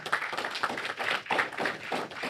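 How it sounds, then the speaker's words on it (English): A small audience at a cooperatives panel discussion in St. Kitts claps in a brief round of applause, dense overlapping hand claps at a steady pace, fairly close. "And I think that also deserves another round of applause."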